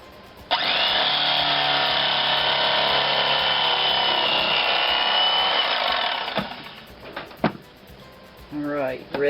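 A bread knife saws through a crusty sourdough honey quinoa loaf with a loud, sustained rasping drone lasting about six seconds, then a few short scrapes and clatters follow, with a voice briefly speaking at the end.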